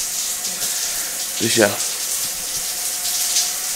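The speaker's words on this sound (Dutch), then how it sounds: "En de douche staat aan." A running shower hisses steadily in the background, an even wash of spray noise that continues the whole time while a person speaks briefly in the middle.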